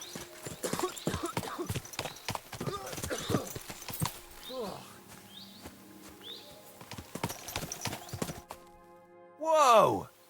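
A horse's hooves clip-clop at a steady walking pace in the medieval video game Kingdom Come: Deliverance II, close and clear with a short pause, then a loud whinny at the end.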